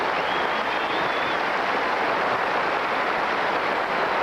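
A Notre Dame football crowd applauds at the 1992 Michigan at Notre Dame college game, a dense, steady wash of clapping and crowd roar that holds at an even level throughout, with a brief whistle-like tone near the start.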